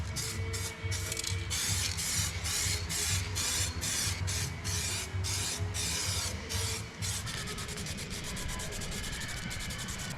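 An aerosol rattle can sprays silver paint across a bay, loud bursts of hissing spray repeating in short pulses, then settling into a steadier, faster hiss toward the end.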